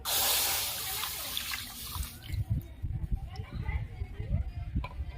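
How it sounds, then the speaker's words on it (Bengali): Strained milk, 500 grams, pours into a wok with a brief watery rush at the start that fades into quieter handling noises and low clatter, with a voice speaking over part of it. "এখানে আমি 500 গ্রাম দুধ ছেঁকে নিয়েছি, কড়াতে দিয়ে দেবো।"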